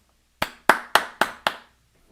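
A single person claps hands five times in quick, evenly spaced succession, each clap crisp and close, with silence before and after.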